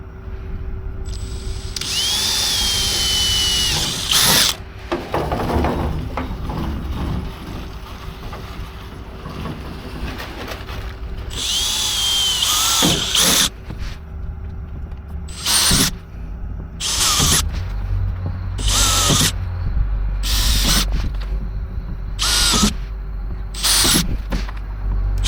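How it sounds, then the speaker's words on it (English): A power drill whirs in several bursts while drilling holes for a truck roof rack, a few long runs followed by short repeated spurts, with quiet pauses between them and a low hum underneath. "time to drill."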